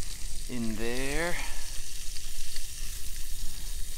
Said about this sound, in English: Okay, so getting my fish on there, frying it